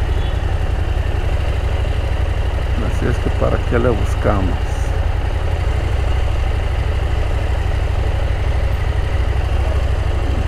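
A motorcycle idles steadily and close by on a road trip near Tequila, Jalisco, its low engine rumble continuous throughout while someone speaks briefly over it.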